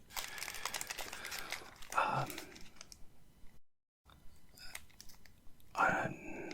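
Close, crisp crinkling of 2021 Panini Score NFL football card packs being handled, coming in bursts of rustling with a brief silent gap partway through and soft whispering alongside.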